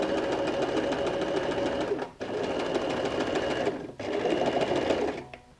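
A sewing machine runs in fast, steady bursts while stitching the side seam of a stretch-fabric T-shirt, its rapid needle chatter pausing briefly twice before stopping.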